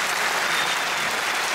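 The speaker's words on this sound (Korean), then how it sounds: "이분들한테 박수를 보내주시기 바랍니다." A veterans' association lecture audience in Pyeongtaek gives warm, dense applause honoring Korean War veterans, a steady wash of many hands clapping with no talk over it.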